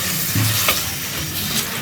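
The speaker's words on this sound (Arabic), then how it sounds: "غادي نشحر مزيان هذيك الثومه مع البصله" Garlic and onion frying in olive oil in a pan, a close continuous sizzle with light stirring scrapes over it.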